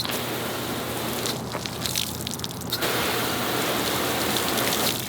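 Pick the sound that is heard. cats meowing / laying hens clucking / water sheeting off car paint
water sheeting off car paint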